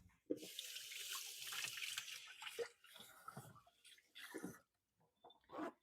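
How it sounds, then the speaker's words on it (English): A kitchen tap runs steadily into the sink while hands are rinsed, with splashy flow for several seconds, a few broken spurts, then silence. "I'll give my hands a quick rinse."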